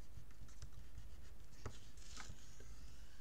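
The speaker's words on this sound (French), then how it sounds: "lisser le papier. Je vais peut-être même tellement appuyer que le côté texturé va partir un peu" A hand presses and rubs textured craft paper from a design pad to smooth it flat, a close, steady scratchy brushing with soft taps and no talking.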